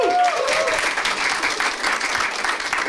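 An audience applauds for a baby girl at a live improv comedy show, a full, steady round of clapping from a crowd lasting throughout, with a brief voice at the start.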